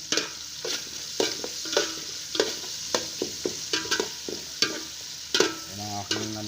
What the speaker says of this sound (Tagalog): naglalagay ako ng bitchin, ng asin habang ginigisa ko ang ating ingredients